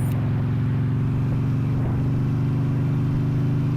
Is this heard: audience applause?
no